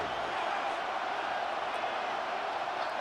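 Stadium crowd in a Madden NFL 26 football game roars as a steady, dense wash of cheering, constant and moderately loud throughout with no distinct voices.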